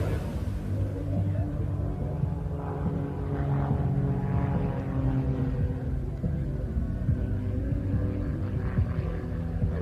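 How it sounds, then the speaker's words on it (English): Propeller aircraft flying a display routine at an air show, a steady broad engine drone holding throughout, moderately loud and distant-sounding, with crowd or commentary voices faintly underneath. "Now he's positioning the aircraft"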